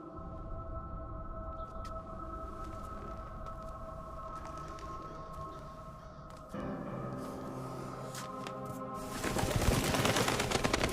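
Pigeons cooing in a dusty, cobwebbed abandoned building in the Thief game, soft repeated coos over a steady ambient drone that grows louder and brighter near the end.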